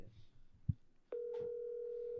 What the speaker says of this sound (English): It's ringing. It's ringing.